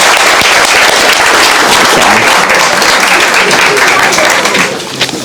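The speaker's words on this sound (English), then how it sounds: "I think that deserves a round of applause." Guests at a wedding reception break into sustained, dense applause that carries steadily for several seconds before tapering off near the end.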